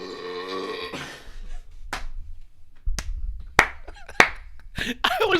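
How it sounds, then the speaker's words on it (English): A person lets out a loud, drawn-out burp during a live podcast episode, followed by sharp slaps or claps and other brief knocks, all close to the mic. "I'm not a fan of people burping on podcasts, but that's a good one."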